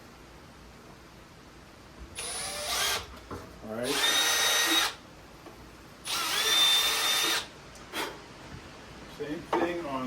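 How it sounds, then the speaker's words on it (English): A power drill whines in two long bursts and a couple of short ones, boring a pilot hole for a cabinet handle into a wooden drawer front up close; a voice speaks briefly. "I'll drill my pilot hole."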